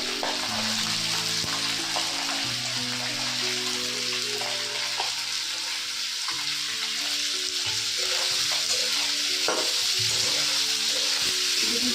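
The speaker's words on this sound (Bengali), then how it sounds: "গাজর একদম স্লাইস করে কাটা আছে আমি এখন তেলে দিয়ে দেবো" Sliced carrots fry in sunflower oil for fried rice, a loud, steady sizzle with faint clinks and stirring noises scattered through it and no speech.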